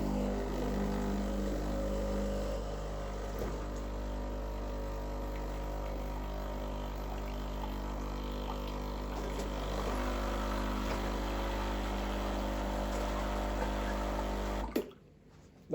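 A Breville Barista Express BES870BSS espresso machine pushing hot water through its group head, a low steady pump drone with faint trickling water, continuous and unvoiced, stopping abruptly near the end.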